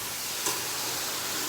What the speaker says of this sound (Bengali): ডুমু ডুমু ডুমু করে তেলের মধ্যে আলুটা ঢেলে দিত, এবার আলুটাকে ভালো করে ভাজতে হবে।